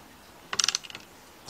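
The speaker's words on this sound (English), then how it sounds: "I got a 13mm shallow socket, 3/8 drive, my 3/8 drive ratchet." A 3/8-drive ratchet with a 13mm shallow socket tightens a bolt on a Volkswagen Beetle engine, giving a short burst of about five quick, crisp clicks followed by a few softer ones, close and alone.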